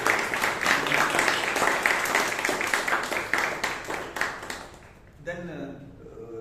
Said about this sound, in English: A big round of applause to the secretary.